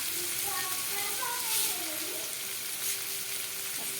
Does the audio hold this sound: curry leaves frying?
yes